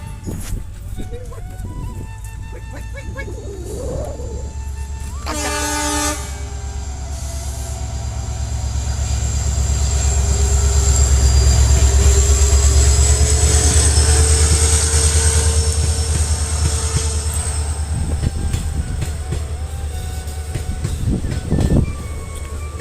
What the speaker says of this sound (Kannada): ನೋಡ್ರಿ ನನ್ನಿಂದ ಬರ್ಲಿಕತ್ತ ಟ್ರೈನ್.